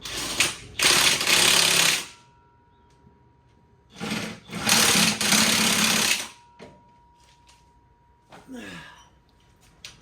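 Two long, loud hammering bursts from a cordless impact wrench drive driveshaft bolts on a Mazda CX9, with a pause between them. A fainter, shorter buzz of the tool follows near the end.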